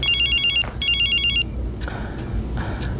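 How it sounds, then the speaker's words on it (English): A flip phone ringtone plays nearby: two loud, clear bursts of bright electronic beeping separated by a short gap, followed by quieter room sound with faint clicks. "Is that a flip phone? What type of ringtone is that?"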